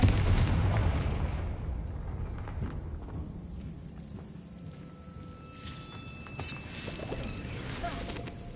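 A Confringo blasting spell explodes in Hogwarts Legacy, giving loud booming blasts over a continuous rumbling game soundscape with faint clattering in the background.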